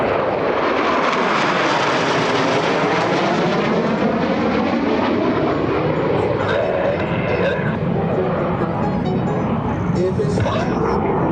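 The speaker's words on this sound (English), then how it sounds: "Blue Angels 5 and 6 are approaching the flight line at 400 miles per hour" US Navy Blue Angels jets 5 and 6 roar in loudly at about 400 mph at the NAS Patuxent River air show, a sustained broadband jet rush that swells and shifts in pitch as they approach, with an announcer talking over it.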